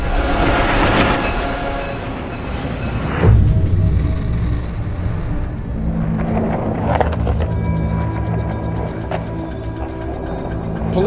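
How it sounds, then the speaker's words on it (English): A freight train rolls along the tracks with a steady rumbling roar, metallic clatter and occasional squeal of wheels, loud and continuous throughout with no voices. "I really wanted to ride a freight train."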